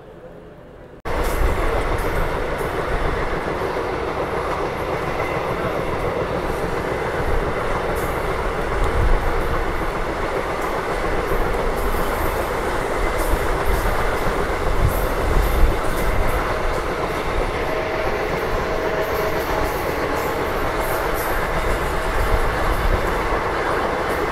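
A DEMU train running from Bengaluru toward Hassan rumbles steadily from inside the carriage, a loud, continuous roar of wheels and motors with faint rhythmic clatter, after a quiet opening second; no clear talk stands out.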